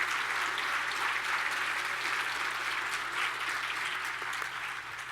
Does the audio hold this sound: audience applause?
yes